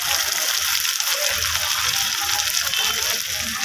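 Chili paste hits onions frying in a pan for a catla fish and eggplant curry, giving a steady, loud broadband sizzle with faint stirring underneath, no voices.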